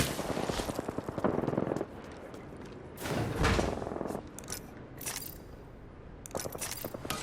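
Gunfire in the Apex Legends video game, with short bursts of rapid shots and sharp cracks separated by brief pauses, fairly close and loud, with no talking.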